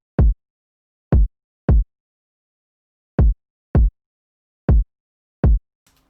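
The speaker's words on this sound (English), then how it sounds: "the kick sounds like this alone" Seven punchy trap beat kick drum hits sound alone in an uneven beat pattern, each a short deep thump separated by silence.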